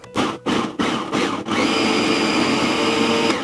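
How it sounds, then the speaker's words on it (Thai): A kitchen blender whirs through washed, cut pandan leaves with a little water, starting in a few short stuttering bursts before settling into a loud, continuous grinding roar. "นำใบเตยที่ล้างหั่นเรียบร้อยแล้วมาใส่ถั่วปั่นครับทีนี้เราค่อยๆเติมน้ำไปเล็กน้อยครับแล้วเราก็เริ่มปั่นครับ"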